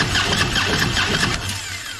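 A 2013 Harley-Davidson touring motorcycle engine cranks and catches for a brief, loud moment, then dies away as it runs on leftover fuel pressure during an oil service.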